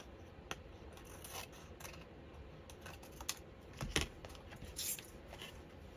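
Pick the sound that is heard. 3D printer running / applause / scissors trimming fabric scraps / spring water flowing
scissors trimming fabric scraps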